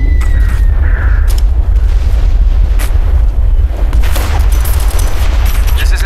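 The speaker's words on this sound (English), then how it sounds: "Rifleman, I need HE barrage artillery 100 meters northwest of my position!" HE artillery barrage in the war game Operation Flashpoint Red River, a loud continuous rumble of heavy booms and blasts rolling together, with scattered gunfire cracks layered over it.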